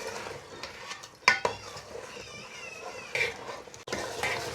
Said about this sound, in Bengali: এখন আর একটু ভেজে নেব।